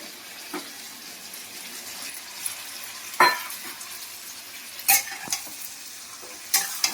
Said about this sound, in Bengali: ভালো করে ভেজে নিই সব মশলার সাথে